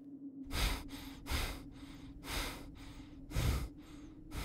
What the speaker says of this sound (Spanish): Una respiración agitada que provenía del interior de los cubículos.